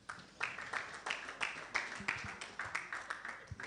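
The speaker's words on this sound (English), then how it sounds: "A round of applause for him, please." Faint, sparse clapping from a small audience at a data center launch event, a few individual claps at a steady rhythm without a full roar.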